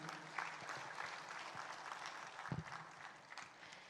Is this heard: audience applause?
yes